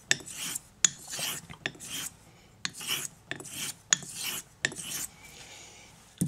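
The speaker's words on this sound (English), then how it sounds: "you spend the rest of your time burnishing and bending that edge with the long diameter stone" A Thiers Issard straight razor rasps back and forth across a sharpening stone in quick, regular strokes, each a short gritty scrape with a sharp click at the turn, close and distinct.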